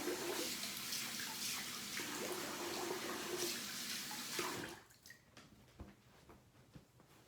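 Tap water running to wet a shaving brush and face, a steady rushing flow for several seconds that cuts off, leaving faint drips and small handling sounds.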